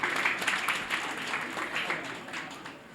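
Audience applause at a ceremony, a steady, moderately distant wash of clapping from a crowd that holds for the whole stretch without pause.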